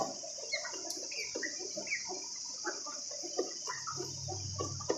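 Silkie chickens in a cage clucking softly in short, scattered bursts at moderate distance, with a steady high insect-like drone in the background.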